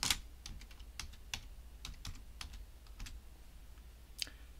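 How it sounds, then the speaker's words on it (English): Keys clatter on a computer keyboard in a short, uneven burst of close, crisp clicks, a dozen or so taps spread over a few seconds with brief pauses, against a quiet room and no speech. "then type the word Control"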